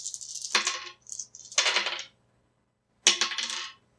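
Dice rolled onto a table in an Era: Survival tabletop game, three quick clattering bursts of tumbling and rattling, close, with silence between them.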